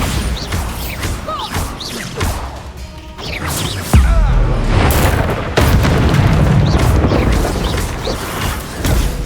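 Loud booming spell blasts from the Hogwarts Legacy video game, with a sharp crash near four seconds and another near five and a half, amid dense in-game combat rumble and effects.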